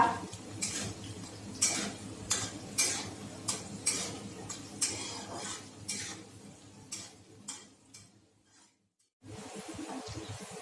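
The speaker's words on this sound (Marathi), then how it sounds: "लसणाच्या पाकळ्या टाकूया हे छान परतून घेऊया" Garlic cloves saute in a pan, as a spoon clinks and scrapes against the metal in a steady, repeated rhythm, with a low sizzle under the strokes and a brief pause near the end.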